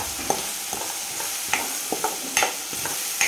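Green chillies, cumin and turmeric sizzle as they are stir-fried in a pan, with a constant frying hiss. Several sharp spoon scrapes and knocks against the pan are spread irregularly across the clip.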